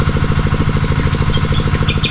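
Two engine-driven irrigation water pumps running together in a field, a steady, loud, rhythmic mechanical chugging with constant clatter and no pauses.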